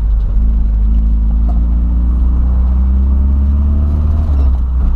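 Inside a boxy Volkswagen Voyage creeping slowly over a speed bump, with a steady loud low engine rumble and road drone throughout and no voices.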